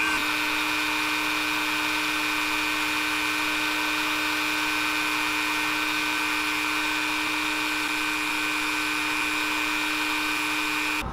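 A Dremel rotary tool whines at a constant high pitch, running loud and steady close by while cutting material, with no speech.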